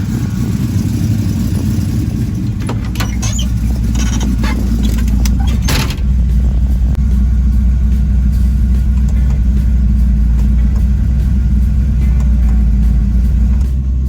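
A 1968 Dodge Charger cruising around the block, its engine rumbling loud and steady from inside the car, with a brief rise in noise partway through before settling back to an even drone.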